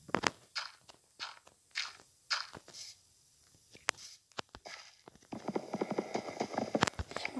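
Horses walking in the Minecraft Sky Block video game, sparse hollow clip-clop hoof steps spaced irregularly, fairly faint, with busier game sounds toward the end.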